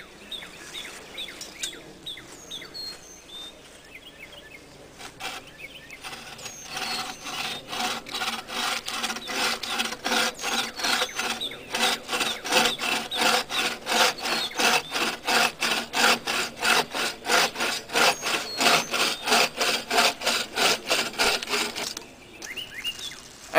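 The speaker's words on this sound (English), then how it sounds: "make a second cut all the way through the branch about 2 inches further away from the collar" Hand saw cutting all the way through a tree branch outdoors, a long run of fast, rhythmic rasping strokes that grows louder and steadier before stopping, with faint birdsong in the background.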